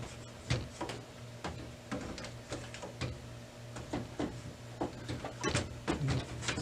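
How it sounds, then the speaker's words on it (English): An imaging kit is slid into a Lexmark CX410 laser printer, giving a series of close plastic clicks, knocks and sliding scrapes over a steady low machine hum. "You're going to slide it back into the machine."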